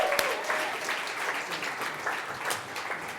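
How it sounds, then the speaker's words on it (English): An audience claps for contestant Dave as he comes up on stage at a quiz-style game show. The applause is dense and steady, holding for about three seconds with a few louder claps, close and unbroken, and no one speaks over it. "Everyone give Dave a round of applause."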